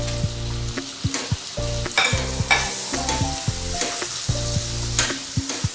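Chopped tomatoes go into a pan of frying onions for a brinjal curry, giving a close, loud sizzle with repeated knocking and scraping strokes as the mixture is stirred.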